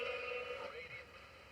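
A spirit box sweeps through radio stations during a ghost hunt. It gives a brief, faint burst of tuned broadcast sound with a steady tone and voice-like fragments, with no white-noise gaps between them.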